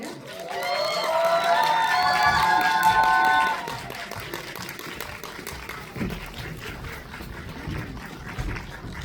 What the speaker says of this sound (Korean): 오늘의 게스트 휴민트의 주역들을 모시겠습니다. 큰 박수 맞이해주세요.